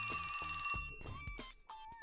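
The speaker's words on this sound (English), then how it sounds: "That's my phone." A mobile phone rings in repeated bursts of a bright electronic tone, close and clear, with no one speaking over it.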